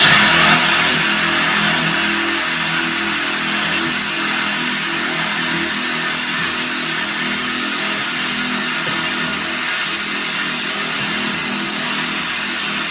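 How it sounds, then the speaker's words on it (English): A power drill with a hole-cutting blade grinds continuously through material while installing a shower glass door, a steady loud whine with slight wavering in pitch as the tool is rocked. "as I'm drilling, I'm kind of making a motion like this to make sure that the blade's not getting stuck in there."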